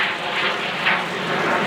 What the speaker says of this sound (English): Sorry about the aeroplane again. Every time I go to film it, they always seem to fly past.